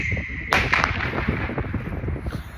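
Firecrackers burst during a Lantern Festival celebration in China: one sharp, loud crack opens a run of rapid crackling pops that fade into a rumbling, echoing background.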